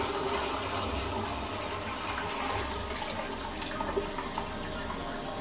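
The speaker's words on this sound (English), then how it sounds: "There it goes, automatic flush." A HOROW N30 non-electric bidet toilet runs its automatic flush, giving a steady rushing, gushing water sound throughout that stays even and close without any talking.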